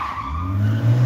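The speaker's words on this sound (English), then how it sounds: "trying to do burnouts. It's not working out." A Jeep attempts a burnout, its tires squealing and skidding over a rising engine drone in a short, loud burst nearby.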